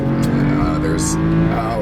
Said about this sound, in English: the engine just goes into this M3 light sort of scream